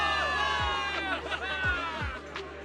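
A crowd of soldiers in the video game Zenless Zone Zero cheers for victory, a dense wash of overlapping shouts and whoops with a few low thuds.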